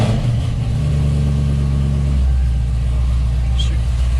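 A wide-body C6 Corvette engine fires up in a garage, giving a loud, steady rumble that holds for a few seconds with a slight rise in revs.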